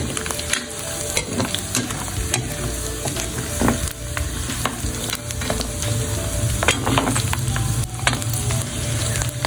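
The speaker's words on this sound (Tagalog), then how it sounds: "Ipa-fry muna natin siya." Steady crackling sizzle of fatty meat frying in rendered fat in a hot pan, with occasional stirring scrapes and spatters, close and continuous.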